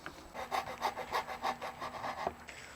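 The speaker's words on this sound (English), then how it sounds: "We'll use this little razor saw right here. It cuts pretty dang quick, honestly." Small razor saw cutting through electric guitar body wood, a quick run of about ten rhythmic rasping strokes close up, each stroke a bright scrape, ending in a short pause.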